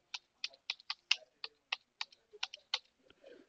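Fingers typing a localhost IP address on a computer keyboard, a run of about a dozen crisp, separate key clicks in an uneven rhythm, close and fairly quiet, with no talking.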